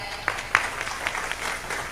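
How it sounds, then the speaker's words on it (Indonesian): Applause from a gathering breaks out, a fairly soft, diffuse patter of clapping with a couple of sharper claps near the start, staying at a moderate, even level. "Tepuk tangan."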